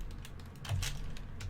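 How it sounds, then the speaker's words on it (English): Quick, light keystrokes tap on a computer keyboard, a short close burst of a few clicks with a slightly louder strike partway through. "I'm just going to type in import"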